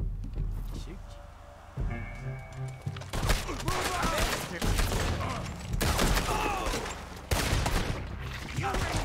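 Gunfire erupts in a fusillade of shots during a Red Dead Redemption 2 standoff, loud bursts of overlapping reports with game dialogue mixed in around them.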